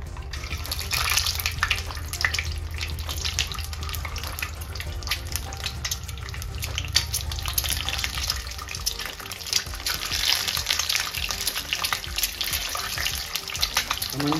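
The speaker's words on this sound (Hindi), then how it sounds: "अब इसमें सारे अंडे हम रख देंगे फ्राई होने के लिए।" Boiled eggs dropped into hot oil sizzle steadily in a pan, a dense, hissing crackle that runs throughout, with a low hum fading out partway and occasional louder spits and pops.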